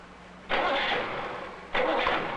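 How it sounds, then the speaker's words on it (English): A car engine is cranked by its battery-powered electric starter motor in two abrupt bursts, each a sustained whirring roar that holds steady, close and loud. "The starter motor is run by electric current from the battery."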